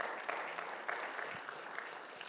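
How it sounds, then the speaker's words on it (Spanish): Moderate applause from a congregation at a Bible seminar, continuous with distinct individual claps, fairly quiet and without talk. "Vamos a tener un fuerte aplauso al Señor"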